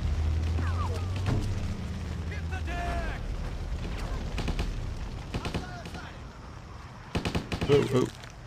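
Enemy gunfire in Stubbs the Zombie on Xbox 360, bursts of rapid shots and impacts scattered across a noisy battle scene, with a louder cluster of shots near the end and a voice talking over it.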